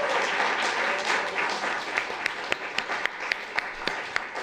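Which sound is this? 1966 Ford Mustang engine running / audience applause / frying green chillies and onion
audience applause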